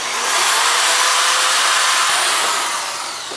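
A power sanding disc works a car headlight lens at coarse grit, giving a steady, loud, broadband whirring hiss that holds unbroken for several seconds before easing off slightly at the end.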